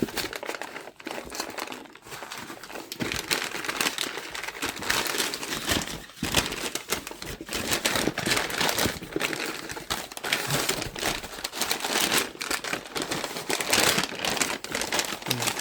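Packing paper is crumpled and stuffed by hand into a box for a Samsung S24 phone, with continuous close crinkling and rustling that comes in uneven bursts, loud and alone.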